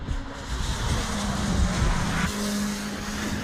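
Caterham 7 310R race cars at speed on the Knockhill circuit, engines roaring loud and close with a steady rising drone and a brief tyre squeal, the whole pack passing through continuously.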